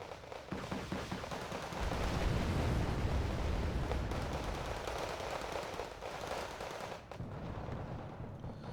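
Rocket launchers fire in the real-time strategy game Wargame Red Dragon, a dense rumbling barrage of rapid blasts and booms that swells and holds, then briefly thins near the end.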